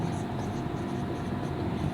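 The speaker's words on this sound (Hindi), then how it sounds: "सबसे पहले हम लिखेंगे" Writing on a board during a trigonometry lesson makes a steady, close scratching that runs throughout with no clear breaks.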